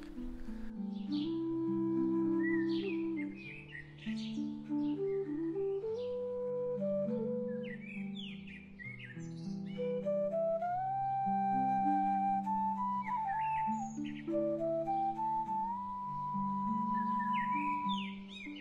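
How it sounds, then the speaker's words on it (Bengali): Birds chirp in a Bangladeshi village, with short high calls scattered over a louder, steady melodic music background. "সকালবেলা পাখির কিচিরমিচির শব্দে ঘুম ভাঙা,"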